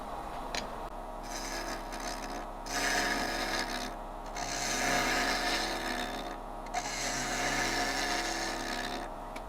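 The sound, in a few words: wood turning on a lathe with a bowl gouge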